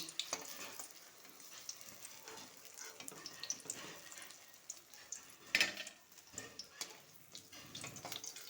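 Paneer pieces frying one batch at a time in hot oil, giving a steady, busy sizzle with occasional louder pops and light utensil clinks throughout.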